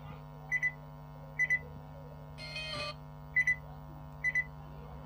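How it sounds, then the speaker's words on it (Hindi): A faulty Bluetooth speaker gives out short paired beeps, 'tee tee', in a steady repeating rhythm over a constant electrical hum, with a brief burst of buzzy noise in the middle. Each beep is close and clear. "जो आवाज़ बढ़ाने पर टी टी टी टी करता है"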